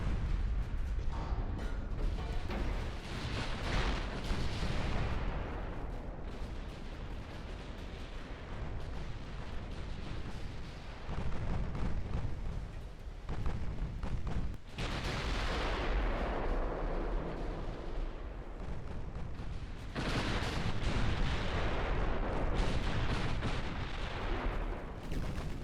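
Heavy naval gunfire and explosions from a warship ammunition detonation in the naval combat game Ultimate Admiral: Dreadnoughts, a continuous loud barrage of booming blasts and rumbling bursts throughout, with no talking.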